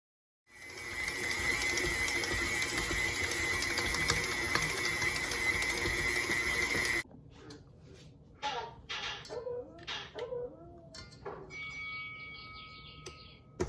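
A dough mixing machine kneads flour and a milk mixture for brioche buns, starting with a steady mechanical whir and then turning to an uneven knocking and clattering as the dough tumbles in the bowl.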